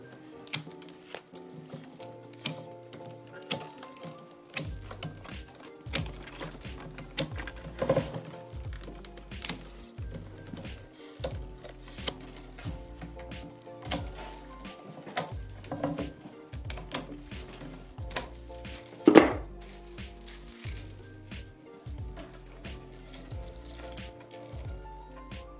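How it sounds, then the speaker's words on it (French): Wicker strands being cut during basket weaving for a trivet, a long run of irregular dry snips and clicks with faint rustling between cuts, close and fairly quiet. "on coupe tous les brins."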